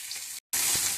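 Boiled mushrooms frying in a pan with chopped tomato, coriander leaves and onion, giving a steady close broadband sizzle broken by a brief silent gap, then louder hissing with a faint stir.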